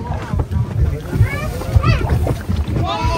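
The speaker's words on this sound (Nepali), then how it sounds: "अहिले चाहिँ हामीहरू बोटिङ गर्दैछौँ अनि बोट चाहिँ मैले नै चलाइरहेको छु" A rowing boat on Rara Lake sloshes and splashes through the water, with wind buffeting the microphone and people talking close by the whole time.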